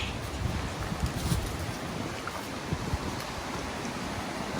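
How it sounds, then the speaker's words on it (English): Water rushing over a small creek crossing in a rain-swollen state park forest, a steady broadband wash with light wind buffeting, no talk. "made it to a little creek crossing here"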